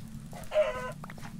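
Chickens cluck in the Minecraft Hexxit modpack, one short, faint clucking call rising over a low background hum, with no talk.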